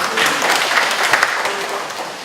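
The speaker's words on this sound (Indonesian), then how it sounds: "Ya tepuk tangan dong." An audience at a public lecture in Indonesia applauds in a dense, continuous wash of clapping that stays fairly loud and steady throughout.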